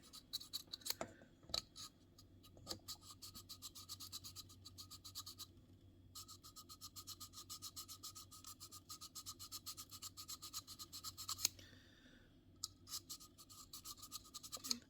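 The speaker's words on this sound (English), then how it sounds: "Just sand it out." Close, quiet scraping of sandpaper inside the narrow intake of a 1/48 plastic model F-86D Sabre Dog jet, rapid back-and-forth strokes in steady bursts with a few short pauses.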